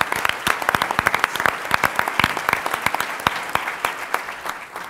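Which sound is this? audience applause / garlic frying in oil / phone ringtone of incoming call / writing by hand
audience applause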